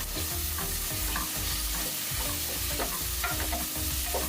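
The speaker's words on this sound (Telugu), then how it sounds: "ఈ చిల్లీని కూడా వేసుకుని ఒకసారి కలుపుకుందాం అండి." Crushed chilli hits a hot pan and is stirred in, giving a loud, close, continuous sizzle with scraping spatula strokes throughout.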